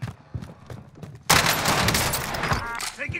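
Gunfire in Call of Duty Warzone: after quiet in-game sounds, a sudden dense burst of automatic shots erupts and keeps rattling loudly for about two seconds, with a few thuds mixed in.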